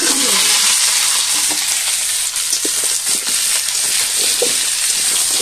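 Dry red chilies and sweet pumpkin fry in a pan with a splash of water, producing a loud, steady sizzle with a few stirring clinks and no talk.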